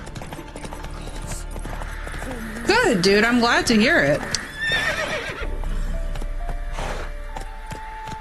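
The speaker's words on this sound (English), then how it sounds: "Eventually, I will remember how to ride a horse in this game." A horse in The Witcher 3 clip-clops along at a steady walk and lets out a loud whinny partway through, while a person talks over the game sounds.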